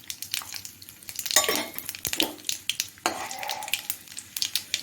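Mustard seeds and chana and urad dal frying in hot oil in a kadai, with a soft close sizzle, scattered pops and a few metal scrapes and clinks of stirring.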